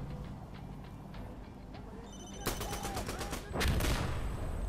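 Rapid machine gun bursts in the video game Insurgency Sandstorm, loud and fast over a busy in-game background, with a second heavier burst of fire after the first.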